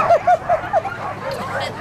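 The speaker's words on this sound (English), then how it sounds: "Look at all the dogs in the yard." Several sled dogs barking in quick succession in a dog yard in Fairbanks, Alaska, a handful of sharp barks close by over a busy background of yips and distant commotion.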